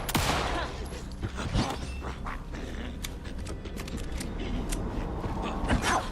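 Video game gunfire comes as sharp percussive cracks over a busy, rumbling game soundscape, with a couple of louder shots standing out near the start and near the end.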